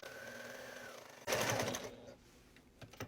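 A sewing machine stitches a short line on a pumpkin trick-or-treat bag in one brief, loud whirring burst, followed by a few faint clicks and taps as the fabric is adjusted.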